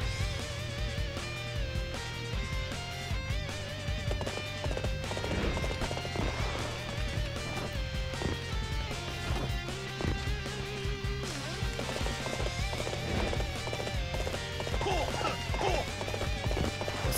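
A horse gallops in Dynasty Warriors 8, its rapid clip-clop hoofbeats running over constant game music and effects, with no speech.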